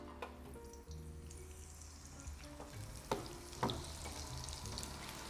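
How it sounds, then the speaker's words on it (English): Chips frying in hot oil for Indian spiced desi chips, a steady close sizzle and bubbling with a few louder clatters, as if the pan or chips are stirred. "You fry your chips."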